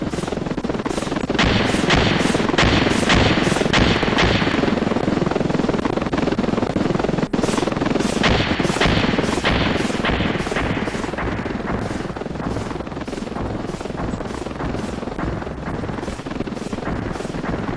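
A helicopter called in to bomb a bridge in the video game Intruder, with its rotor thudding in a fast, steady rhythm while bursts of gunfire and booms crackle on top, loud and continuous throughout.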